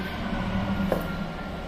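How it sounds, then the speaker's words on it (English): A train passes nearby with a steady, continuous rumble and low hum that holds at a constant level throughout, with no voices. "another train."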